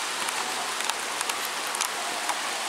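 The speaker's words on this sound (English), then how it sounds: "Okay, and it's raining." Steady rain patters on surfaces outdoors near a foggy mountain, a soft, even hiss with scattered droplet ticks and no voices.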